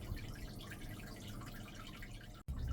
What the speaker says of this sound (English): I'm just going to pour the water in.